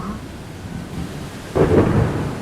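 Deep rumbling thunder rolls in the distance, swelling louder partway through with a broad low roar, no voices present.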